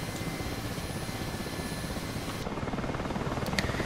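Mi-8 helicopter in the DCS flight simulator, with a steady loud turbine whine and dense rotor thrum running throughout, the tone briefly shifting near the end.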